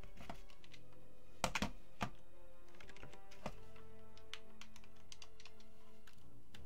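Computer keyboard typing during a PC session of the Wizardry: Proving Grounds of the Mad Overlord remake: scattered close key clicks, a few sharper louder strikes near the start, then sparse taps over a low steady hum.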